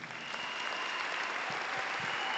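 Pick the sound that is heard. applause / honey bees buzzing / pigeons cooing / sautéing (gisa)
applause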